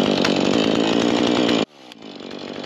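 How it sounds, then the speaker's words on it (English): A dull chainsaw cuts through a fallen tree across a creek, its engine loud and steady at full throttle before suddenly dropping to a low idle near the end. "Yes, I know my chainsaw is dull."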